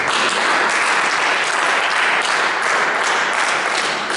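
A church congregation applauds the Lord in steady, dense clapping that fills the space evenly from start to finish, loud and close with no voices on top.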